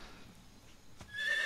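A horse neighs in the video game Metal Gear Solid 3, a brief whinny rising near the end over a quiet background with a faint click around the middle.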